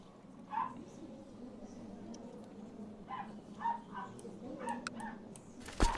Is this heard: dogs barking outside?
yes